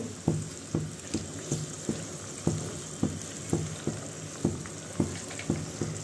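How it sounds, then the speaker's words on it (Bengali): Fish pieces drop into a simmering curry broth, giving soft repeated plops and a bubbling, sizzling wash under a steady low hiss with no talking. "এখন আমরা মাছগুলো দিয়ে দিব, যেহেতু ঝোল ফুটে গেছে"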